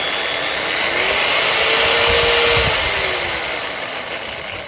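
A DCK 7-inch variable speed car buffer polisher whirs loudly and close, its motor tone rising steadily as it speeds up, then easing back slightly near the end.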